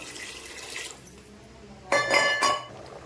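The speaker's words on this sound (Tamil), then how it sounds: "இப்போ இந்த 2 டம்ளருக்கு 4 டம்ளர் அரிசி தண்ணி ஊற்றிடுறேன்" Water pours from a tumbler onto rice in a pot while cooking tomato biryani, a short splashing rush lasting about half a second after a quieter stretch of faint kitchen clinks.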